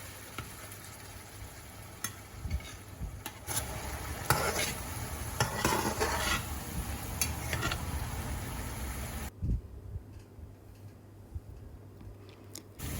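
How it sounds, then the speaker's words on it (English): Blended onion, garlic and ginger paste fries and is stirred in a pan for nasi lemak, with a steady close sizzle and scraping stir strokes; the hiss thins and quiets for the last few seconds. "And we'll just stir it for a bit,"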